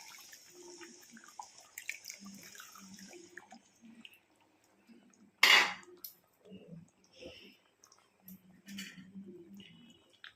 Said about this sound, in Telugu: చింతపండు పులుసు వేసుకుందామండి